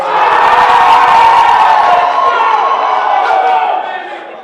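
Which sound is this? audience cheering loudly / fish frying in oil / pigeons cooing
audience cheering loudly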